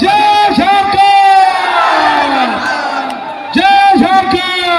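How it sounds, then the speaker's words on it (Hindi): Rally crowd welcoming Jharkhand leader Tiger Jairam Mahato, loud and close with shouted cheers and whoops rising and falling, a voice calling over the crowd noise. "जोरदार तालियों से स्वागत कीजिए"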